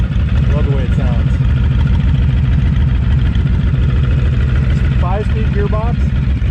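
A Honda Fury touring motorcycle's 1312cc 52-degree V-twin with three valves per cylinder idles with a loud, steady, lumpy low thrum, while someone talks briefly over it at the start and near the end.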